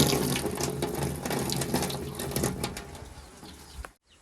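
Water gushes loudly from a tap into a container, a steady splashing rush with birds faintly audible behind it. The flow cuts off abruptly just before the end.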